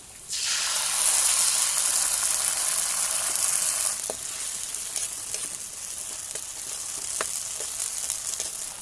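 Onion and canned sardines hit hot oil in a pan, bursting into a loud, dense sizzle that eases slightly after a few seconds, with faint clicks of utensils over the hiss.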